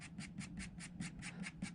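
A voice imitates an unbalanced fan rubbing inside a laptop or portable power station under heavy charging draw, with bent plastic scraping the blades: about nine quick, regular breathy pulses, close and steady, with no other talk.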